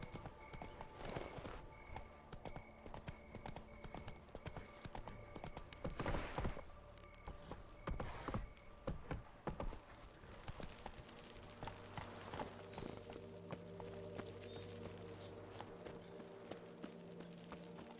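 Horse hooves clip-clopping steadily in The Witcher 3, a continuous trotting rhythm at moderate distance, with game ambience and occasional faint voices beneath.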